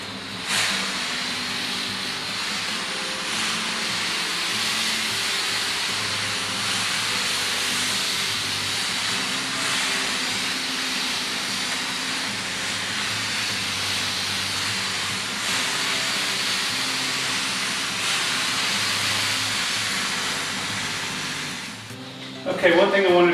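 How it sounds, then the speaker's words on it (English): A Shark Steam Mop Pro releases a steady, continuous hiss of steam while scrubbing, loud and unbroken for the whole stretch, ending with a brief clatter. "you can hear it gives out a decent amount of steam"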